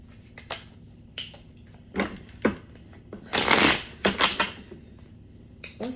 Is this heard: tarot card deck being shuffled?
yes